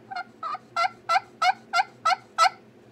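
A handmade turkey pot call worked with a striker gives a run of eight evenly spaced, raspy yelps, growing louder after the first two notes and heard close and alone with no talking.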